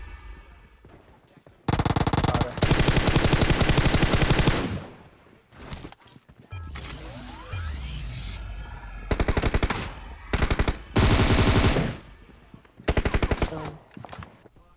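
Bursts of rapid automatic gunfire in PUBG Mobile, loud and sustained, alternate with short pauses and quieter stretches of scattered shots.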